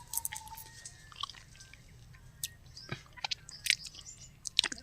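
Someone chews wild ambhala fruit up close, giving soft, irregular crunchy bites and wet squishing sounds over a quiet outdoor background.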